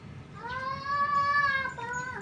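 A cat meows once in a long, drawn-out, moderately loud wail that rises and then trails off, heard close by over a low background murmur.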